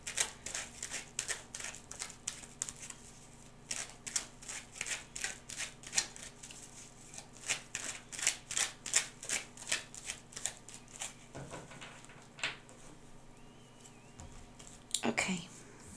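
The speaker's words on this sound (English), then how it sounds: "Gonna shuffle this deck a couple of times." A deck of tarot cards being shuffled, repeated quick riffling bursts in an uneven rhythm, close and fairly soft, with occasional card taps.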